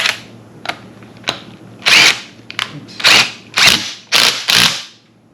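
A power tool tightens an air suspension part on a BMW E92 xDrive, giving several short loud whirring bursts with a few sharp clicks between them, close by.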